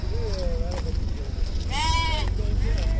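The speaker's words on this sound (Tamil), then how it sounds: "திருச்சியில் இருக்கிற சமயபுரம் ஆட்டு சந்தையில் தான் இருக்கேன்" Goats and sheep bleat at the large Samayapuram goat market in Trichy, with several wavering calls in turn over a constant crowd hubbub and background voices.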